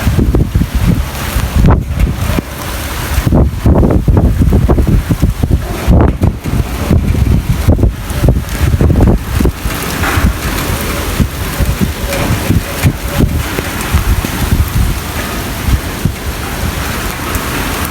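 Heavy stormy rain lashes down with strong gusting wind over a field just sown with corn, a loud, continuous roar with wind buffeting the microphone throughout and no voices.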